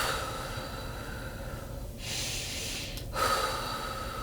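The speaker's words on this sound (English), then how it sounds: "the 2x breath method. So this method is 2 counts breathing in," Slow, deliberate breathing exercise with two counts in and four counts out: a short audible inhale, then a longer hissing exhale, close to the microphone with no speech.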